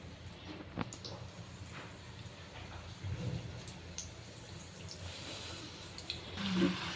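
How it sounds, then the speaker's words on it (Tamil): Samosas filled with fish and meal maker fry in hot oil, giving a steady, faint, rain-like sizzle and crackle with occasional louder pops. No one speaks. "இப்போ பொரிச்சு எடுத்துடலாம்."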